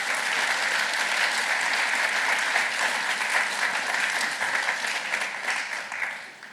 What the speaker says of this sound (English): can you just give a round of appreciation for the catering squad that produced that spread outside there?